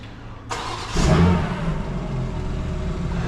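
A tuned 800-horsepower BMW M2 G87 fires up with a sharp burst at half a second, then a loud rev flares and settles into a steady, rumbling idle close by, with no voices.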